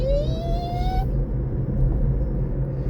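Kia Niro EV electric car accelerating: a rising electric motor whine for about a second that cuts off, over a steady low cabin rumble of road noise.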